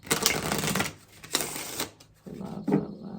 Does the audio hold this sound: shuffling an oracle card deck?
yes